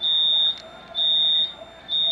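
A garage alarm system beeps during its entry delay with shrill, high-pitched tones of about half a second each, evenly spaced in a steady repeating pattern over faint background noise.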